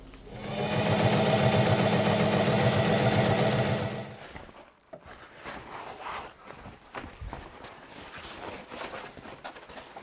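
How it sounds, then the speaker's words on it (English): A sewing machine stitches two sleeping pad cover pieces together in one fast, steady, whirring run of about four seconds, close by. Softer handling noises follow once it stops. "I'm just going to run a stitch along there so that these two pieces are joined together"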